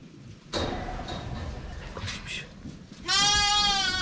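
A lamb bleats once, loud and close, near the end, after some rustling and soft thumps.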